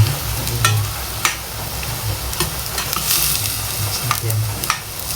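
Food stir-fried in a pan over high heat, a steady sizzle broken by repeated scraping and clanking of a spatula against the pan, no talk.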